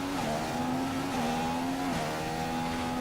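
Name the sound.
race car engine revving in video game F1 2015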